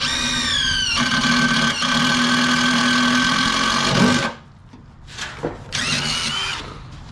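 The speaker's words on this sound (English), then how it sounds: "I need to finish drilling these holes" A power drill boring holes while upgrading a Scag 52 mower, a loud steady whine held for about four seconds, then a pause and a couple of short bursts of drilling close by.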